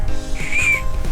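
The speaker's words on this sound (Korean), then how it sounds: "비상용 호루라기." A small plastic emergency whistle, the kind clipped to camping gear, blown softly once, giving a short, thin, steady tone over a quiet background.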